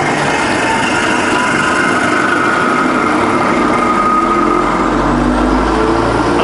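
A TFY milling machine spindle spins in high range at around 1,000 RPM, giving a steady, loud mechanical whine and hum that runs without a break from start to finish, with no talking over it.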